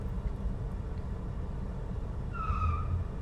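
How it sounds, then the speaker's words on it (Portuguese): A car's tires squeal briefly near the end while it pulls away on a steep uphill start, a rising tonal screech over steady engine and road rumble. "até cantaram o pneu"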